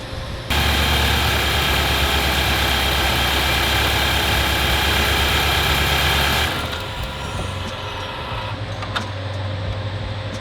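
A 2016-or-later Nissan Titan truck engine idles loudly and evenly, then drops to a lower, quieter rumble partway through and keeps running.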